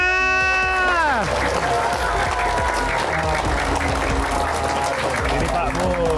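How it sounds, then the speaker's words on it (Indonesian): Hands clapping in a crowd at a finished house renovation reveal on an Indonesian home-makeover show, a dense steady patter running the whole way under lively talk and background music. "Kita tepuk tangannya!"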